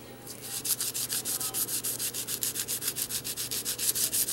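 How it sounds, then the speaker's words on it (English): A cleaner is polished into a surface by hand in quick, even back-and-forth strokes, a close rhythmic rubbing swish repeating steadily with no voices. "Do my polishing."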